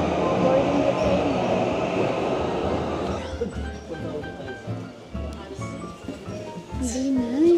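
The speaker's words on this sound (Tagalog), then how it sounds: "we're riding the train" A train ride in Japan, heavy rolling roar that drops to a quieter, uneven rumble with clatters and brief squeals partway through, then swells again near the end.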